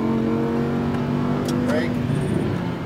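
A Lamborghini Huracan on a track in Las Vegas, its engine droning steadily as it accelerates, with a rising whine partway through, all under continuous talk from an instructor and driver.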